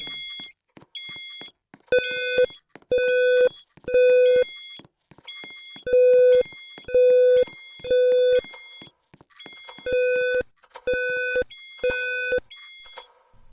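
A building fire alarm sounds during a test, a loud electronic horn pattern of three long beeps, a pause, then three more, repeating in the classic temporal rhythm, with no talking.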